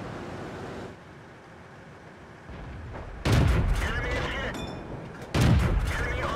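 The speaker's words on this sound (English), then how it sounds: "I'm just shooting at him" Heavy tank cannon fire in a World of Tanks battle with a VK 16.02 on the Highway map at night, loud booming shots landing in bursts with rumbling tails after a quieter stretch.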